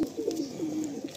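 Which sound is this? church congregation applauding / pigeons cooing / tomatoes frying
pigeons cooing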